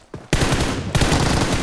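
Sustained rapid gunfire in PUBG Mobile, a dense, loud burst of automatic shots beginning after a brief quiet moment, with a short pause and then continuing steadily to the end.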